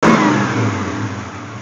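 An old chrome-detailed truck engine revving under the hood, a loud, close mid-pitched roar that swells at the start and holds steadily.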